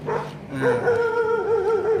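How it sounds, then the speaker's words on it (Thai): A dog barks and whines in a drawn-out, yelping run at a Thai home where a Honda Lead scooter is shown, fairly close and continuous over low background noise. "หมาเริ่มเห่าไล่แล้วนะฮะ"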